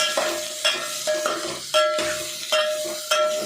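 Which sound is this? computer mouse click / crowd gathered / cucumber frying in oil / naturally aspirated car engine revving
cucumber frying in oil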